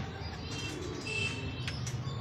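Pigeons cooing close by on a hot day, soft low throaty coos with faint chirps over a steady background hiss, brief and quiet.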